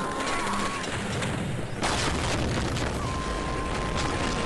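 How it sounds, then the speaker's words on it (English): A loud explosion rumbles through a room in the video game Shadow Warrior, a sudden broadband blast near the two-second mark rolling into sustained heavy rumble and debris noise amid game sounds. "I think I triggered the explosion in the next room"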